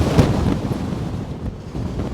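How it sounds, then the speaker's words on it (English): A strong gust of wind buffets the microphone on a steep Scottish hillside in the Great Glen, a dense, roaring rush that swells early and stays loud and steady throughout. "that was a huge gust of wind"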